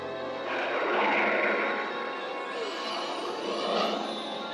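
A cartoon aircraft comes in to land with a steady swelling whoosh that rises, eases and rises again over a few seconds, heard alone without talk.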